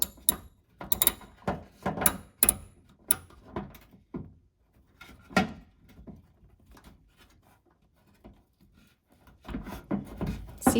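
A ratchet with a swivel socket works a bumper bolt on a 1994-1999 sixth-generation Toyota Celica, producing quiet, close bursts of clicking and metallic clatter separated by short pauses.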